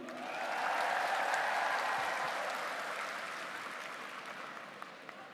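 Applause from the audience at an outdoor land-certificate handover ceremony in Sidoarjo, East Java, a steady wash of clapping that swells quickly and then slowly fades, with no voices over it.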